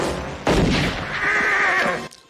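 A horse in a western film whinnies loudly and shrilly after gunfire, a long strained neigh following a sharp burst of noise, close and prominent before cutting off abruptly.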